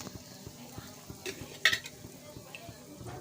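Toll fish curry gets stirred in a pan, giving quiet repeated spoon scrapes and taps over a faint simmering sizzle, with one sharper clink near the middle.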